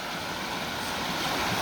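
Water cascades steadily over carefully placed rocks in a creek at an old mill, a continuous broadband rushing wash heard up close with no voices.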